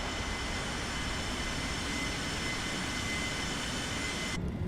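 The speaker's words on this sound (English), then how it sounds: "I think they changed the Pratt & Whitney sounds," Pratt & Whitney engines on an MD-11 airliner in Microsoft Flight Simulator 2024, a steady broadband roar with a high whine, constant and moderately faint throughout.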